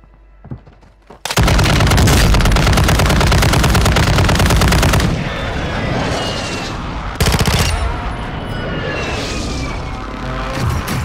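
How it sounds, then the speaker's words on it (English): RPG launcher firing in a video game: a loud sustained blast and roar lasting several seconds, followed by a second sharp burst and lingering rumble amid dense gunfire-like noise. "That RPG didn't sound too bad."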